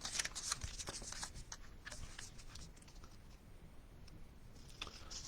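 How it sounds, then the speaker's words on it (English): Scissors snip through a paper strip to trim off its white edge, a run of soft, crisp cuts and rustles close by, fairly quiet, with no talking. "So I'm just cutting off the white edge off the strip."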